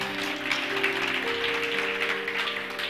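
A church congregation applauds in a steady, even wash of clapping that lasts throughout, with sustained keyboard or organ tones held underneath.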